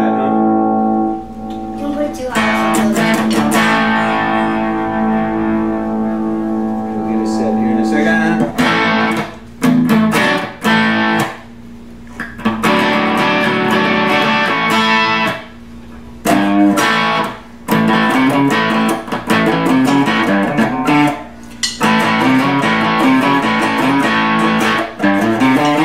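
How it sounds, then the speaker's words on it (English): A heavily distorted Epiphone Les Paul Special II electric guitar plays a chugging riff, repeated in phrases with brief pauses between them, loud and close. "God knows we need more distortion than that."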